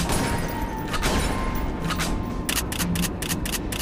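Shotgun shots in the zombie shooter Resident Evil: The Umbrella Chronicles, a series of sharp cracks that speed into a rapid cluster of blasts toward the end over constant rumbling game noise.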